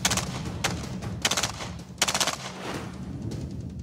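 Bursts of automatic gunfire from an FN P90 bullpup submachine gun, loud and close, in several short strings with brief pauses between them.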